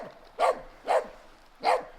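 A dog named Toby barks three times in sharp, evenly spaced bursts at pigs on a farm, close and fairly loud, with quiet pauses between each bark.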